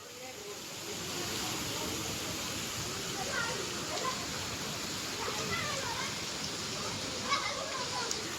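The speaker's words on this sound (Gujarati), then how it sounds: "ને ફૂલ વરસાદ છે." Steady heavy rain roars as a dense, continuous hiss, with faint distant voices and scattered sounds underneath.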